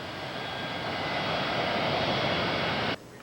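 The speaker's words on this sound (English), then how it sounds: "Emergency aircraft's on a 3-mile final now." An emergency aircraft on a three-mile final approach to the runway gives a loud, steady engine roar that holds for about three seconds and then drops off sharply to a faint hum.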